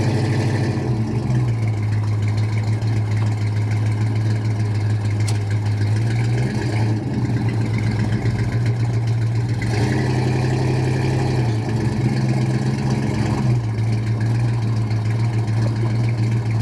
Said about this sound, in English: Today we are going to drive our 1972 Chevrolet Chevelle with a 350 and an automatic transmission behind it.